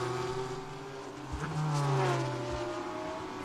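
Race cars in an IGT endurance race at VIR roar past on track, engines revving and shifting with a loud rising pass and a drop-off, continuous and close.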